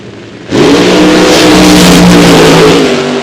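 A funny car drag racing engine launches hard at the starting line of a raceway, a sudden loud blast that holds at full roar for about three seconds, close and alone with no talk.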